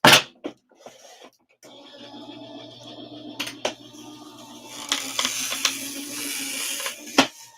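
Die-cutting machine cranking a stencil and die inside a bubble mailer through its rollers, a close mechanical grinding rumble lasting several seconds, bracketed by sharp clunks and knocks of handling.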